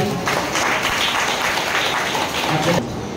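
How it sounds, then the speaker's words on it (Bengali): A church congregation gives loud, sustained applause, a dense steady roar of many clapping hands that runs almost the whole stretch before easing slightly near the end. "জোরে প্রবচিত করতালি দিতে পারি"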